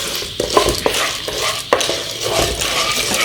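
Popcorn kernels stirred with salt and ghee in a hot pan over a full flame, a loud close scraping and rustling with a faint sizzle and occasional sharp knocks of the spoon.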